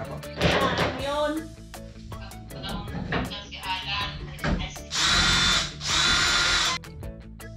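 A power drill drives screws into a bed frame in a home renovation, with two long, loud whirring bursts plus short trigger pulls, clicks and knocks of handling the wood. A voice speaks between the drilling.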